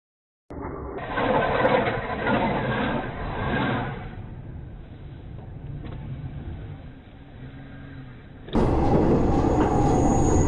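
A train passes dangerously close to a car in snow, with a loud rumbling roll that dips and then rises into a harsher, louder rush near the end.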